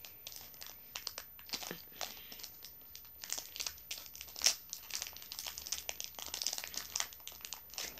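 A pack of football cards is torn open, its plastic wrapper crinkling and crackling up close in quick irregular bursts, with a sharper rip partway through.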